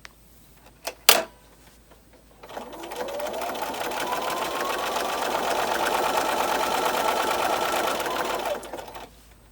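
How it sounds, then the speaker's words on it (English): A sewing machine runs steadily for about six seconds, quilting a reversible casserole dish hot pad with a regular sewing foot, preceded by a couple of sharp clicks and ending abruptly, with no talk. "just use your regular sewing foot and sew 1/8 of an inch from the seam"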